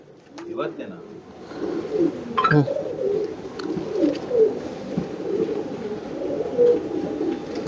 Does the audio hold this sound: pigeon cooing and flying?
yes